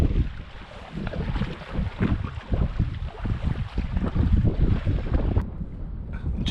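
Steady wind gusts across the microphone on a bay during a solo canoe trip in the boreal wilderness, a loud, continuous rushing roar with slight surges and no speech.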